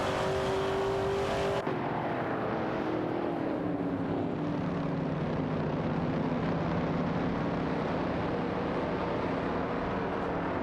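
An Oldsmobile 442 and rival cars in an AI racing video game roar past, a dense sustained engine drone with a pitch that slides downward as the cars pull away, loud and unbroken.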